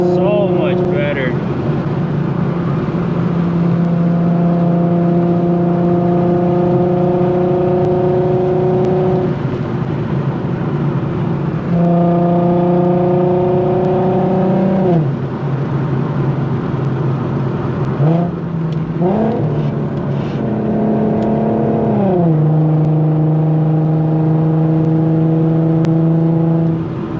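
Infiniti Q50 on a canyon drive with aftermarket wheels, its loud exhaust droning steadily from inside the cabin, rising and falling in pitch through repeated gear changes and revs.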